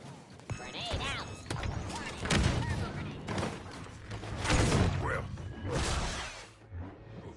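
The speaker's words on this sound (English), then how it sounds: "Grenade out." A grenade goes off in a video game, a dense burst of whooshing, crashing impacts and scattered gunfire, moderately loud and continuous, with voices talking over the battle noise.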